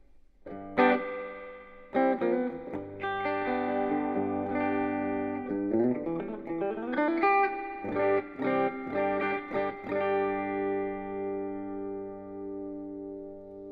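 Electric guitar notes and chords through a noisy Peavey Bandit 112 amplifier's spring reverb ring out with a washy, lingering reverb tail, played alone at close range and fairly loud.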